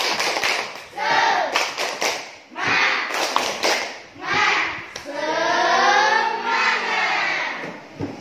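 Children in an Indonesian classroom chant a spirited clapping cheer, voices loud and close, with hand claps and slaps breaking in between the rhythmic sung phrases.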